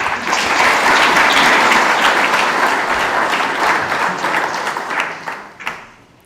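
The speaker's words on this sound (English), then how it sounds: "let's put our hands together once again for Cyprian" Audience at a church conference gives a loud, sustained round of applause for Cyprian, dense clapping that swells early then gradually fades out with a few final claps.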